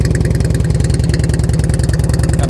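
A Harley Davidson Ultra Classic FLHTCU motorcycle engine runs at idle, a loud, close, rhythmic low-pitched lope with steady uneven pulsing throughout.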